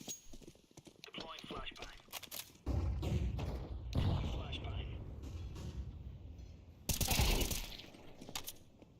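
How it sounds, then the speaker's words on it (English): A flashbang grenade detonates in a video game, two loud booming bursts against rapid gunfire clatter, with a player's voice talking between them. "Deploying flashbang. Flashbang."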